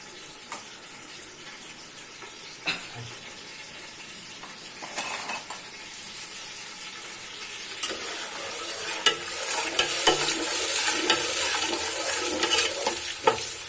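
Onions fry gently in a pan in a village kitchen, a soft sizzle punctuated by scraping spoon strokes as they are stirred, the frying growing a little louder and busier toward the end.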